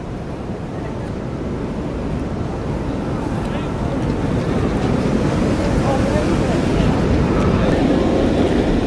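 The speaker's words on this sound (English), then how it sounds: "Here's a pan from the seaside." Seaside waves at Casablanca, Morocco, make a steady, loud wash of surf that swells slightly, mixed with heavy wind buffeting the microphone.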